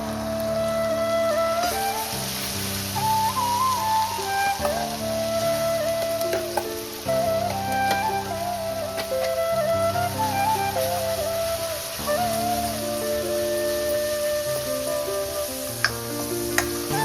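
Ground masala paste for misal pav sizzles steadily in hot oil for the whole stretch, with soft stirring scrapes and a tonal tune playing in the background. Nobody speaks.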